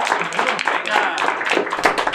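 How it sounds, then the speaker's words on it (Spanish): Studio audience applause on a Spanish-language talk show greeting a referee guest: dense, steady clapping throughout with voices talking over it. "quiero pedir un aplauso porque es el primer refere que tenemos aquí en el programa"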